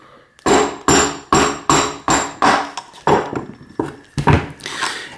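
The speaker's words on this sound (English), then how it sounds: "what I'm going to do is use a wooden mallet" A wooden mallet taps on a bicycle bottom bracket spindle with sealed cartridge bearings, giving about eight sharp, close knocks in a steady rhythm and then a few quicker, softer blows.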